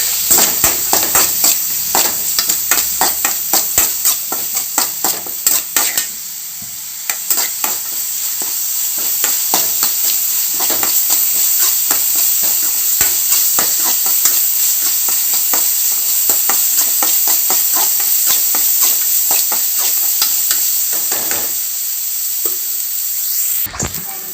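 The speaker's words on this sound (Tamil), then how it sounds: "ஆனியன் வந்து நல்லா கண்ணாடி பதத்துக்கு நல்லா வதங்கட்டும்." Onions sautéing with a pinch of rock salt in a pan for a Sunday liver gravy, a steady close sizzle broken by frequent scraping and stirring clicks, with no talking.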